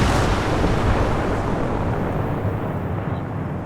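In the ArmA video game, a controlled explosive charge detonates at a demolition site, leaving a loud, broad rumbling roar that fills the air and slowly fades.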